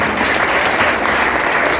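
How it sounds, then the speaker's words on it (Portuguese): A church congregation breaks into loud, dense applause, a steady unbroken burst of many hands clapping at once with no voices on top. "Aplauda o Senhor Jesus"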